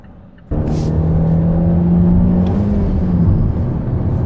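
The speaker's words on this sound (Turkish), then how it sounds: "Evet hızlanmalarını gerçekleştiriyoruz şu anda Veysel Bey, ile." A Mazda3 running on an LPG conversion with a Lovato OBD2 autogas system accelerates with a loud, steady engine drone and rising whine, starting suddenly and heard from inside the car.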